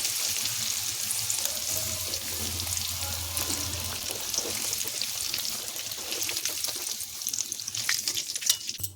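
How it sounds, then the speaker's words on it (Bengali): Homemade paneer frying in hot oil, a soft continuous sizzle and crackle with occasional stirring clinks that grow busier toward the end. "পনিরগুলো হালকা করে ভেজে তুলব।"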